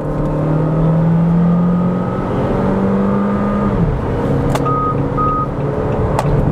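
Jeep Compass Série S SUV under hard acceleration from 60 to 120 km/h, a steady loud engine drone with rising pitch and road and wind roar, and a few short beeps near the end.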